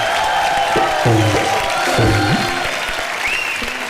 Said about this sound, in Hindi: जोरदार ताली दीपिका के लिए